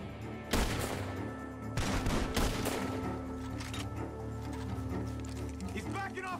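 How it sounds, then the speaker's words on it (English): Gunfire from a barn in Red Dead Redemption 2, several sharp shots cracking out at intervals amid galloping hooves and tense game ambience, with characters shouting throughout. "Gunshots are coming from that barn!"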